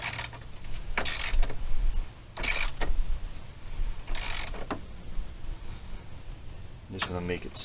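A ratchet tightening the bolt on a car battery hold-down bracket, giving bursts of quick clicking at close range amid handling noise, with a faster run of clicks at the end.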